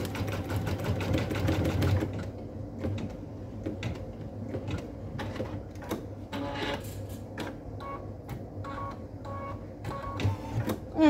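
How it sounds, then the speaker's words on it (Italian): A domestic sewing machine stitches the moustache onto the rest of a Santa Claus face for a handmade Christmas door decoration, its needle running in a steady, close, loud mechanical rhythm with brief pauses and clicks, and no talk. "bassiamo il piedino e facciamo fare questa unione tra i baffi e il resto del viso"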